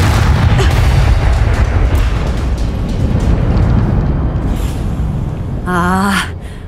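A Bombarda spell blast in Hogwarts Legacy: a loud, rumbling explosion that decays slowly, followed near the end by a short vocal cry.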